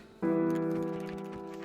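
A single sheep in Minecraft gives one drawn-out bleat that starts abruptly and fades gradually, with faint clicking in the background.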